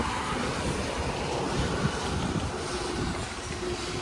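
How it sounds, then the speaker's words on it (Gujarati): Strong wind blowing outdoors, a steady loud rushing roar buffeting the microphone without letup. "જો ગાઈસ પવન કેવો આવે છે."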